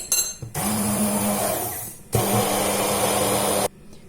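Strawberry pieces whirred in a blender for a strawberry mojito, two loud steady motor bursts of about one and a half seconds each, separated by a brief pause, no talk.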